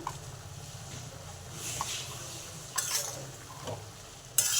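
Ground cumin and coriander spice mixture fries in a pan while being stirred, making a soft crackling sizzle with intermittent scraping strokes of a spoon, fairly quiet and close.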